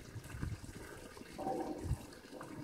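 Hot thermal spring water flowing at an outdoor pool in Kamchatka, a soft continuous trickle and gurgle heard faintly at a distance under low background rumble, with no talk.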